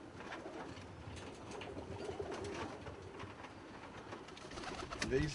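Kit pigeons coo softly in a loft, low repeated calls over a faint background hum, with a louder burst near the end.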